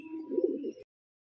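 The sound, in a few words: pigeons cooing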